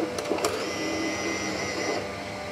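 Bambu Lab X1 Carbon AMS pulling filament in, a steady whirring motor feed lasting a couple of seconds with a few small clicks at the start, close up and alone.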